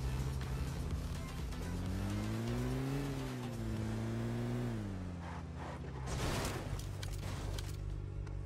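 Vehicle engine in the PUBG battle royale game droning steadily and revving up, then rising and dropping in pitch as the car boosts forward, loud and continuous throughout.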